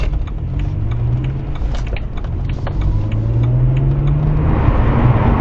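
Steady, loud road and tyre roar from a car driving at speed on a dual carriageway, with low engine drone shifting slightly in pitch and a continuous broadband rush throughout.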